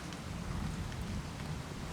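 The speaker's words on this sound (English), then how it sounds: "I like recording the rain." Rain falls in a soft, continuous hiss with a faint low rumble beneath it, steady and fairly quiet throughout.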